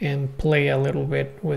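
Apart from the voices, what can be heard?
No everyday noise stands out behind the speech.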